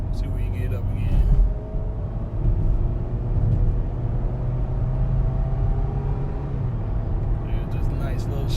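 A 2012 Ford Fusion SE on a test drive, heard from inside the cabin as a steady low road and engine rumble that swells slightly near the start, with someone talking over it.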